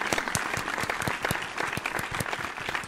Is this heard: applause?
yes